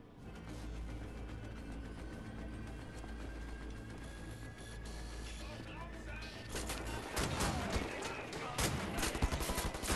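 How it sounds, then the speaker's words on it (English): Sustained suppressing gunfire in the video game Wolfenstein: The New Order, a dense continuous rattle of automatic weapons with mechanical clatter, growing louder and harsher toward the end, with game audio underneath. "Lay down suppressing fire"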